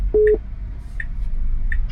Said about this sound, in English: Give me a second, I'm getting a phone call.